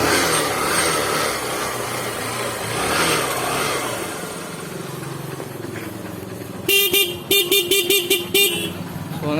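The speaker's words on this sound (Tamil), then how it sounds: "நல்லாவே அடிக்குது வண்டி ஹாரன்" Horn of a Honda petrol motorbike running on a DIY 12V 6Ah lithium iron phosphate battery, sounding in a quick series of short, loud honks near the mic after a stretch of engine and background noise.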